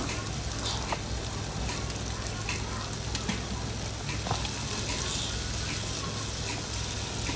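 Sliced onion, tomato and green chili sizzle loudly and continuously in a hot pan, a dense crackling hiss with occasional stirring clicks.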